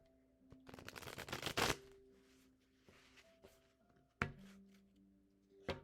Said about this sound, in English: do a little serious shuffling.